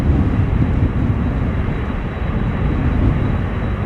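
At Amsterdam Schiphol Airport in breezy post-storm weather, a cargo jet's engines give a steady distant roar, broad and rumbling, continuous throughout with no voices.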